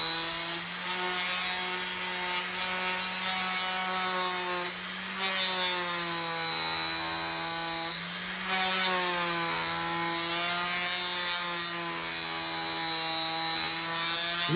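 A rotary tool with a homemade leather polishing attachment buffs a knife blade, producing a loud, steady high-pitched motor whine whose pitch wavers slightly as pressure changes.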